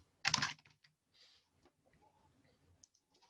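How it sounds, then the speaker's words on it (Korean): A computer keyboard shortcut, Ctrl+B, is pressed: a sharp cluster of near key clicks, followed by a few faint, scattered taps in a quiet room. "그래서 컨트롤 B 눌러봤어요."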